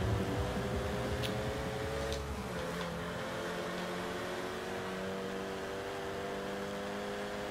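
A 2008 Renault Mégane R26-R accelerates in Forza Horizon, its engine a steady, loud drone with a constant tonal hum, heard alone without voices.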